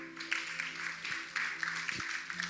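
A church congregation claps during a Sunday service, with scattered, moderately faint applause over low sustained tones.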